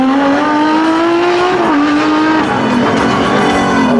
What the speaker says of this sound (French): les puristes de Porsche aiment entendre les moteurs avant tout pendant leur passage